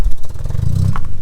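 Stolen Audi S3 engine misfiring and running rough, a loud, uneven low rumble with a lumpy, stumbling beat lasting just over a second, close by with no talking.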